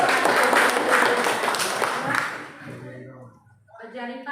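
Applause from a classroom group during a student-teacher practice lesson in Merauke: dense, broadband clapping for about two seconds that thins and fades, followed by quieter voices and a short burst of clapping or movement near the end.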